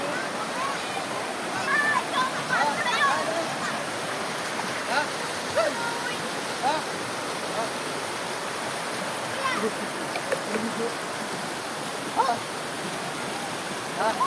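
Water of the Tanay river in a canal rushes and splashes steadily throughout, a broad continuous wash with small splashes, while people talk nearby in the background.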